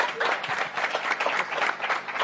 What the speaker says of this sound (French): Est-ce que vous pouvez applaudir pour nous ?